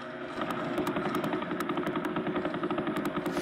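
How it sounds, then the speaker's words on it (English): Vela pulsar radio signal rendered as sound: a steady, rapid rhythmic thumping pulse with a buzzing, engine-like drone, repeating evenly about eleven times a second. "It's the sound of a star named Vela Pulsar"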